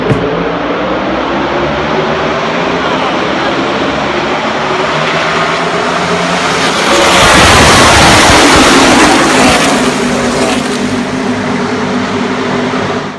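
NASCAR race cars roar off at the start of the Charlotte sprint showdown, a dense, loud, continuous engine drone that swells to a peak midway as the field passes, then settles back into a steady rumble.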